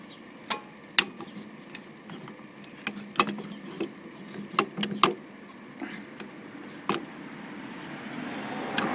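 A Lisle 29100 Quick Quad pad spreader pushing back the dual brake caliper pistons on the right front of a 2014 Honda CR-V, with scattered metallic clicks, ratchety knocks and creaks over a low steady background, close and fairly quiet.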